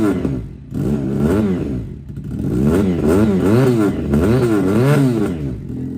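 A Yamaha R3 replica motorcycle revs hard through its exhaust, with repeated rising and falling throttle blips after a brief dip, loud and close with no talk over it.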